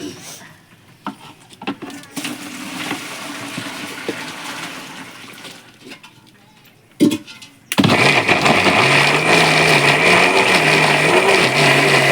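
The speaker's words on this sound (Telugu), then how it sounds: "మిక్సీ పట్టడం జరుగుతుంది." A kitchen mixer grinder (mixie) starts abruptly partway through and runs loud and steady with a wavering motor whine to the end, after a quieter stretch of background noise and voices.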